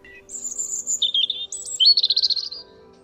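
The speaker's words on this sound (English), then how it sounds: "This is beautiful. The blackbird." A common blackbird, a big black male, sings a clear, fluting phrase of several varied warbled notes, close and loud over faint background hum, with no talking.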